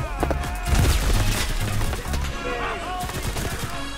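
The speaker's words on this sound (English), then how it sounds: "Oh, grenade. That was lucky." Grenade blast and gunfire in the World War II shooter Enlisted, dense broadband bursts and crackling shots layered with battle noise, loud and continuous across the moment, with a voice talking over it.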